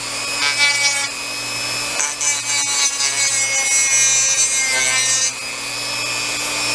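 Continuous scuffing of an epoxy part on an art car built for Burning Man: a loud, steady abrasive rubbing in back-and-forth strokes, close up and alone.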